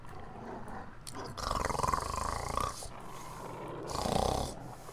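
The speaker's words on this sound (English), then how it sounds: "Oh lord, the wolves are all on me now." Wolves in the video game Dark Souls 3 snarl and growl as they attack, in two rough bursts of deep, throaty roaring over a low background rumble.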